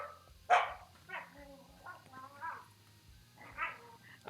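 A dog barks indoors: one sharp, loud bark is followed by softer yips and a second bark burst near the end, mixed with people talking quietly nearby.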